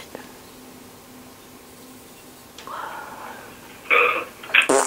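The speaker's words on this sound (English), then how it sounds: "Oh, just farted." A fart-like noise from a video game goes off in a few short, loud, raspy bursts toward the end after a quiet stretch, with a brief murmur of voice before it.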